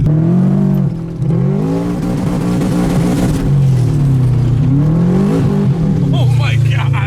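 A rally car engine revs hard at night and keeps bouncing off its rev limiter. The snarling note is loud, close and continuous, rising and falling in pitch.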